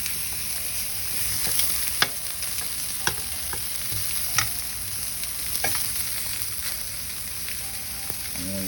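Vegetables fry in a pan with garlic butter alongside a New York strip steak, a steady close sizzle broken by a few sharp clicks and stirring scrapes; no one speaks.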